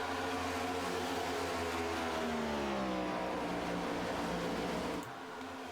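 Stock cars of the ARCS Darkside Mustangs A2 Cup Series race at the Michigan 200, a full field of 24 roaring loud and steady on a restart, engine pitch swelling and sliding before the roar drops away near the end.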